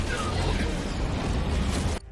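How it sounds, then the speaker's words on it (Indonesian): Explosion striking a crashing aircraft in an animated battle, a loud sustained blast with rumbling broadband roar and debris noise, cutting off abruptly near the end. "mereka berempat pun terkena ledakan yang membuat Lo Feng harus terpental sangat jauh"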